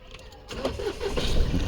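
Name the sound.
Mahindra Bolero Neo N10 engine starting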